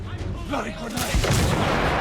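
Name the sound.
grenade explosion in video game The Order: 1886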